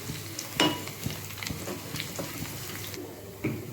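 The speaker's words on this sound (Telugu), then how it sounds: "4 వెల్లిపాయలు, ఇవన్నీ మంచిగా ఫ్రై చేసుకోవాలి." Four garlic cloves fry in a pan with a soft, steady sizzle, quiet and close, broken by a few stirring scrapes and clinks.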